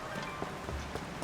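Rain falls steadily in The Legend of Zelda: Tears of the Kingdom, a soft, even patter of drops on surfaces, faint and continuous throughout.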